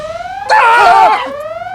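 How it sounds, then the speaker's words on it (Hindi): Phone alarm set as a daily medicine reminder sounds one short, loud warbling electronic tone over a faint steady tonal hum. "ये हमारा फोन का अलार्म बजा, रोज दवाई लेने के लिए लगाना पड़ता है ना।"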